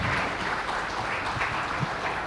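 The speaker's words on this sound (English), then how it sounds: "Let's give them a big applause." Audience applause for panel speakers at a TV summit discussion on TV versus digital marketing, a dense, steady clapping from a hall crowd that holds at even loudness throughout, with no voices over it.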